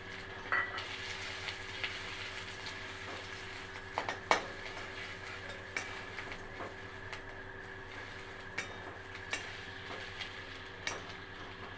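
Chopped ginger dropped into hot oil gives a faint, steady sizzle, punctuated by a few sharp clinks of a utensil against the pan.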